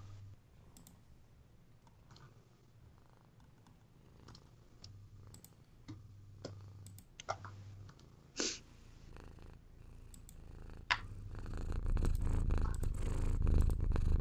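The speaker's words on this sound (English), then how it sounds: "that cat's loud" A cat purrs in a steady low rumble close by, overlaid with scattered keyboard clicks and taps, the purring growing louder toward the end.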